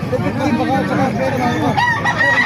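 A rooster crows at a busy chicken market in Bocaue, one long loud cock-a-doodle-doo close by, with other fowl clucking and crowd noise behind it.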